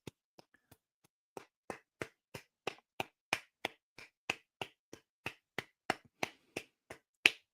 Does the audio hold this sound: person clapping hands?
yes